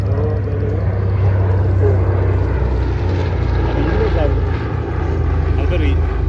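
A propeller aircraft comes in to land at an air festival, undercarriage down, its steady loud engine drone filling the whole stretch while a commentator talks over it.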